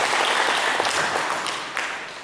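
A church congregation breaks into brief, dense applause during a sermon, a full wash of clapping that fades slightly toward the end, with no speech over it.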